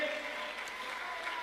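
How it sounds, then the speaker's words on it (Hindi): A live audience claps loudly to welcome a guest onto a stage at a business gathering, a steady wash of applause running unbroken from start to finish. "एक बार ताली बजाओ, जोरदार ताली बजाओ"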